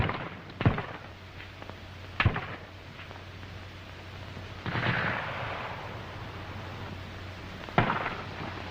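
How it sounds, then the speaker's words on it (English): Grenade explosions open a WW2 German infantry squad's charge on a position: three sharp, loud blasts spaced irregularly, with a low rumbling background and some scattered fainter noise between them. "The grenades open up the charge."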